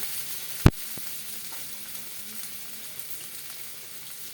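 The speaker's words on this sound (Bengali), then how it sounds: "আর হলুদ দিয়ে এটা একটু নাড়া দিয়ে নেব কাঁচা গন্ধটা যাওয়া পর্যন্ত।" Ginger, green chilli paste and turmeric stir-fried in a pan, giving a steady close sizzle with one sharp utensil clack near the start and soft scraping as it is stirred.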